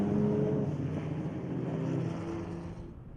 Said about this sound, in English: This does give Martins the chance to drive his car back to the pits as well